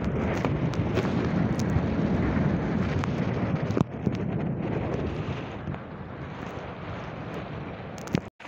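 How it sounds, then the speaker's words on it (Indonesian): Strong wind picking up at sea before a rainstorm makes a steady, loud broadband roar buffeting the microphone, with a brief dip and gust near the end and no speech. "Anginnya mulai kenceng."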